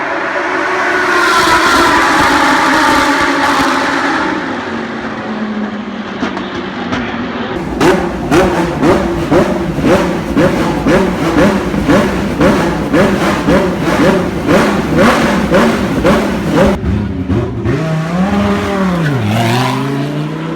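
A Lamborghini Huracan STO's V10 roars loudly and close, its exhaust note rising then breaking into a rapid train of rhythmic revving pulses before easing off, with no talk.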